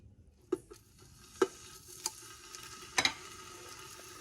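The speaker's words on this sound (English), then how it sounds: "once it gets hot, I'm going to give it a quick sear" A braciole meat roll hits hot olive oil in a pan with a sharp sizzle, then a second roll goes in around three seconds later, each landing as a brief crackling burst over a low, steady frying hiss.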